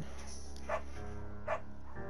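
A beagle named Bucket barking in the video game Firewatch, two short separate barks about three-quarters of a second apart over a steady low background hum, no talking.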